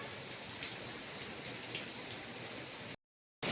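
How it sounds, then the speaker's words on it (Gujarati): Heavy winter rain pours in a steady, dense hiss with scattered drops pattering close by, continuing unbroken before a brief silence near the end. "બરાબરનો વરસાદ વરસાદ અત્યારે ખરા શિયાળા વરસાદ આવ્યો"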